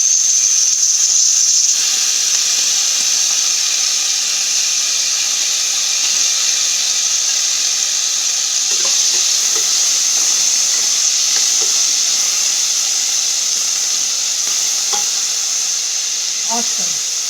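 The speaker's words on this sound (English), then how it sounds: "This sizzling is awesome." Beans and carrots sizzle steadily in a hot pan for a vegetable stir-fry, a loud continuous hiss with occasional clinks of a utensil stirring.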